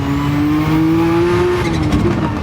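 A Lamborghini Countach QV engine in a racing video game roars steadily at high revs, then drops pitch as it downshifts to second gear, loud and continuous with faint tire noise.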